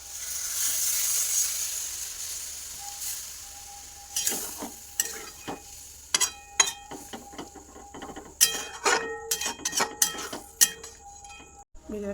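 Water goes into a pan of sautéed pumpkin greens cooked with mustard-poppy paste: a quick hiss and sizzle at first, then the pan settles into scattered metallic clinks and scrapes of a spoon against it.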